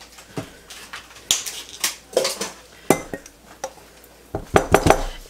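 Pots and pans clink and knock sharply as broth is poured back into a large stockpot, a string of close metallic clatters with short pauses between them.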